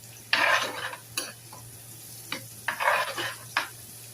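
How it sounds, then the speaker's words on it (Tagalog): Buffalo fish belly frying in a pan with onion and garlic, giving short bursts of crackling sizzle and stirring scrapes separated by quieter pauses, close and moderately loud. "Ayan yung mga pinaprito kong fish belly."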